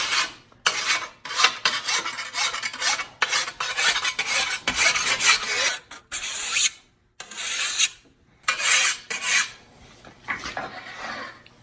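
A hand file rasps along a scythe blade, cutting on the push stroke only, giving steady repeated scraping strokes in quick rhythm with a few short pauses, close and clear.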